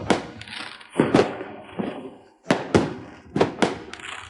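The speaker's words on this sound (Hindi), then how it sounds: "यह आतिशबाजी बहुत सुंदर है।" Fireworks burst in a rapid series of sharp, loud booming cracks, several close together with short decaying tails and a brief pause in the middle.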